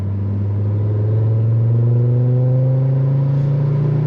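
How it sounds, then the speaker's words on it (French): A Ford Focus RS 300++ accelerating hard, its engine note rising steadily in a loud, close, continuous roar with a deep rumble throughout and no talking. "Et tellement qu'il accélère comme un taré, j'arrive pas à tenir la caméra, les copains."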